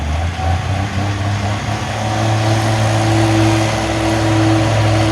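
A loud, heavy pulling-tractor engine with slight blow-by runs steadily and then climbs into a sustained rev, close by and dominating the scene, at a tractor pull.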